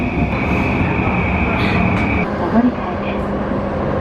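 A Shinkansen train in Tokyo rumbling past at close range, a steady loud roar of wheels and rails with a sustained high whine that fades partway through, with faint voices underneath.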